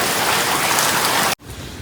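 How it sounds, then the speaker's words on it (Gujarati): Heavy rain pours down in a village with a loud, dense, unbroken hiss, then drops off sharply and carries on more softly after a brief gap. "વરસાદ જો ધોમ પડે"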